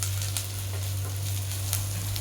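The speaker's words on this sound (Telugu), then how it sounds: "ఆల్మోస్ట్ బ్రౌన్ కలర్కి ఫ్రై అవుతున్నాయి." Onions and masala fry in a pan with a steady, dense sizzle and a faint hiss, close and unbroken, under a low steady hum; no one talks.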